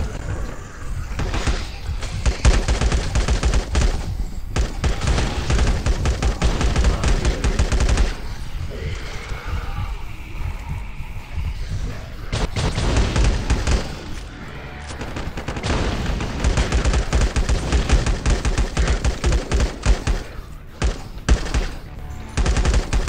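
Howitzer blasts and gunfire against zombies in the LifeAfter video game, dense sustained volleys of loud shots and booms with brief pauses, continuing throughout amid game noise.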